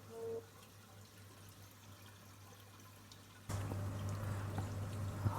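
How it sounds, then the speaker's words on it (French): Water pouring and bubbling in a reef aquarium sump, a faint low trickle that swells into a louder, fuller gurgling wash partway through, heard close up with no talk. "Donc les bulles là, c'est pour le CO2."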